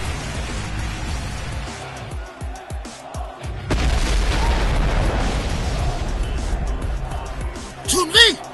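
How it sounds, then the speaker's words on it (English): A fighting video game explosion lands as a sudden loud burst and then a sustained roaring blast, mixed with game music and effects and followed by further pops. "Chun-Li has run point blank into an explosion."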